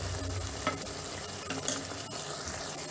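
Turmeric, chilli powder and spices being mixed into a hotel-style drumstick masala curry in a pan; soft sizzling with scraping stirs and a few sharp utensil knocks against the pan.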